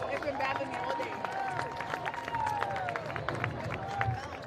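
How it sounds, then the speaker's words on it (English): Crowd at a high school varsity football game applauding coaches being honored, a broad wash of clapping and cheering mixed with crowd babble and a faint whistle-like tone, heard from a distance. "Let's give them a big round of applause."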